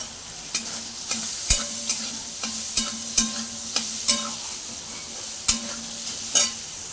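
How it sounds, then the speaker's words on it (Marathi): Paneer frying in oil in a kadhai with red chili powder, a soft steady sizzle punctuated by irregular scraping and knocking clicks from a spatula stirring, close and moderately loud. "बघा पनीर मस्तपैकी मी अशा प्रकारे थोडंसं असं तेलावरती फ्राय करून घेतलं."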